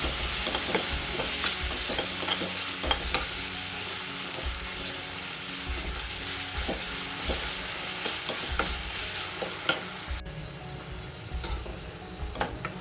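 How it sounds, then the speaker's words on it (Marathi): Tomato stirred into a hot frying pan for dal, with continuous close sizzling broken by repeated scraping and clinking of a spoon against the pan, easing off near the end; no talk. "टोमॅटो घालूया"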